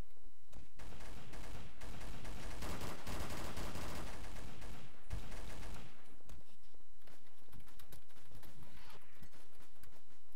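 Rapid bursts of gunfire in a Civil War–themed video game, dense clattering volleys that swell and then thin into scattered shots, with hoof-like clopping mixed in and no talking.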